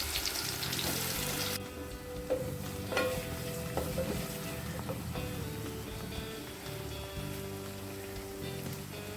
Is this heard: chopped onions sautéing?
yes